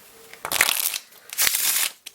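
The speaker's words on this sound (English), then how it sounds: "We can do a riffle shuffle." Timeless and Bicycle Z-Ray playing cards are riffle shuffled twice, each a quick fluttering burst of crisp paper clicks, close and clear.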